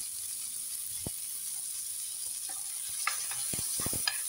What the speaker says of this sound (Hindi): टमाटो को ऑनियन के साथ भून लेंगे और तब तक भूनेंगे जब तक ये गल ना जाए